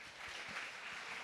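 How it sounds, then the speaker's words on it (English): Audience applause at a college management fest cultural program, a soft, even patter of clapping from a crowd, faint and distant, with no talk over it. "A huge round of applause, everybody."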